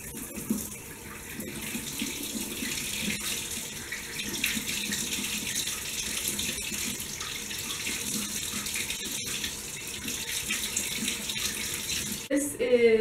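Tap water runs steadily into a bathroom sink while a dried face mask is rinsed off, a continuous close splashing hiss that lasts throughout, with a brief clatter near the end.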